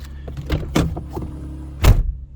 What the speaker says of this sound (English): try opening and closing your door hard